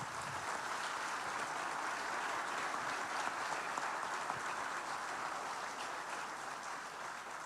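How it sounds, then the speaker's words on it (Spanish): Steady applause from a large conference audience at a Latin American economic forum panel continues evenly throughout, sounding somewhat distant and faint. "primero pido un aplauso grande para Gustavo Marangoni y para Pilar."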